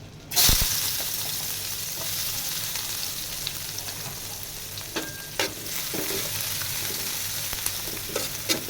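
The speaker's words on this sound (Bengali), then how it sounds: "এটাকে ভালোভাবে ভেজে নেব" Onions sizzle steadily in hot oil in a pan, a continuous crackling hiss with occasional stirring scrapes and clicks.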